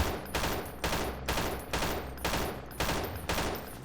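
Sustained automatic gunfire in the tactical shooter S6 Freeman Guerrilla Warfare, long bursts repeating in a steady rhythm about every half second, loud and continuous with no talk over it.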